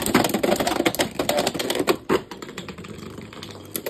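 Beyblade X Drigger S tops spinning and clashing in a plastic stadium, a dense run of rapid sharp clicks and clacks, close and busy, thinning out toward the end.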